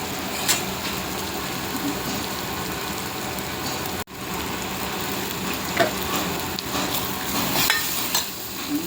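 Dried coconut masala paste fries in hot oil, a steady close sizzle and crackle with occasional stirring scrapes and one brief break partway through.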